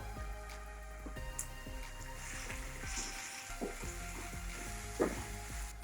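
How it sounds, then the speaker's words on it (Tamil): Finely chopped big onions frying in a pan for a Tamil-style egg roast, a quiet continuous sizzle with occasional stirring clicks and scrapes close by. "இப்போ இதில் சின்னதாக வெட்டி வச்சிருக்க வெங்காயம் சேர்த்துடலாம்"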